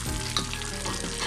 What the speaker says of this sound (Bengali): এখন আমি চুলার আঁচটা মিডিয়ামে রেখে একটু ভেজে নিচ্ছি।